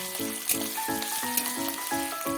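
Onion with crushed ginger and garlic frying in a pan, a continuous soft sizzle under background music.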